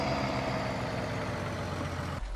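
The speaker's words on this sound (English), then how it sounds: "Shut our truck down because it is bloody noisy." A truck engine idles in Farming Simulator 19, a steady broadband rumble that cuts off abruptly near the end as the engine is shut down.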